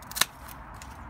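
A single crisp snip as rose stems are pruned back on an allotment, one sharp short cut near the start followed by quiet.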